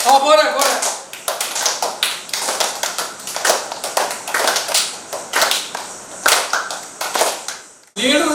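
Children at a summer-camp drama workshop clapping together in a steady, rhythmic pattern of sharp hand claps, loud and close, with brief pauses between runs of claps.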